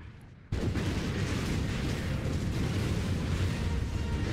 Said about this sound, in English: Get chased down a hallway by a fire explosion!